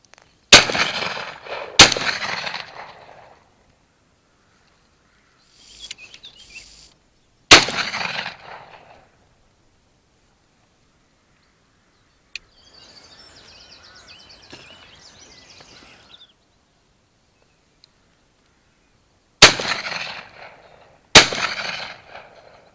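Loud shotgun blasts from an over-and-under 28-inch multi-choke Lanber, fired with 32-gram number 6 fibre-wad cartridges while protecting spring barley from corvids, come in pairs and singles with echoing tails, broken by quieter outdoor stretches.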